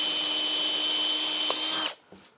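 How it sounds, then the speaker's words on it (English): A power drill bores into pallet wood with a continuous high whine for almost two seconds, stops abruptly, then gives a brief second burst. "We've got to drill all the others."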